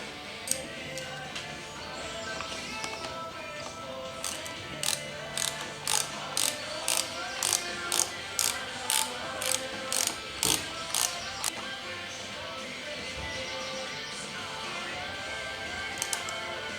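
Ratchet wrench tightening the clutch lever bolt on a Ducati Monster motorcycle, a run of crisp, evenly spaced clicks in the middle of the stretch, close up over a quiet background, with no voices.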